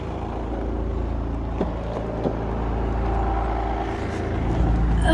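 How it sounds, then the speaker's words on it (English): A 2005 VW Jetta TDI diesel engine idles steadily, a continuous low rumble with a faint rattle and a few small clicks, close by with no talking. "So there's your motor."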